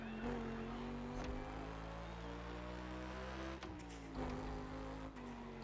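A 1967 Volkswagen Beetle engine drones steadily in The Crew Motorfest, a loud held engine note that dips briefly and then climbs back.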